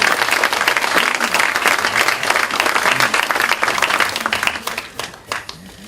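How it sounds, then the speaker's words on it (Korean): Applause from an audience at an emergency party caucus meeting, a dense, steady wash of many hands clapping throughout that thins out toward the end. "우리 고생하신 김한길 대표님께 여러분들 격려의 박수 한번 보내주십시오."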